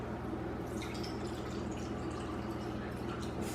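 Water poured from a container into pancake mix, a steady trickling and splashing stream that runs continuously at close range without any talking.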